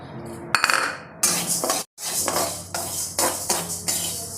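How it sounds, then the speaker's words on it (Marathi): Moong dal being dry-roasted in a pan for bhajani chakli flour, a close, steady scraping and rattling of lentils stirred against metal, with sharper clinks and a brief pause in the middle. "यामध्ये मुगाची डाळ पण भाजून घेणार आहे।"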